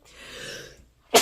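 A single sharp sneeze bursts out loudly at the end, following a stretch of soft breathy noise and a brief pause.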